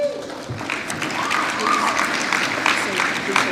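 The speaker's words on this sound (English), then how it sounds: "Please hold your applause till I get finished." Applause from an audience at the Salem High School Honor Day scholarship awards ceremony: a continuous moderate clapping wash heard under a person speaking over a microphone.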